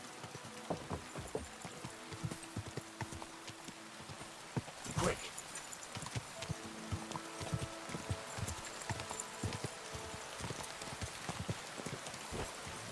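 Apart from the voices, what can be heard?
horse hooves clip-clopping in the rain, from video game Kingdom Come Deliverance 2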